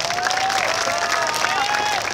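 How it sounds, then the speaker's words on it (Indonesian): Crowd clapping at a religious sholawat gathering in Kauman, Karangrejo, Magetan, a continuous patter with shouts and tonal cheering mixed in. "Tepuk tangan to."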